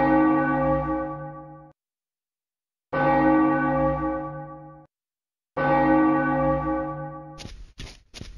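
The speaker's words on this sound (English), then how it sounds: "Three times did he ring the bell" Church bell in the 1999 PC game Codename: Eagle tolls three times, each loud, resonant strike ringing out for about two seconds with pauses between, followed by a brief burst of stuttering game sound at the end.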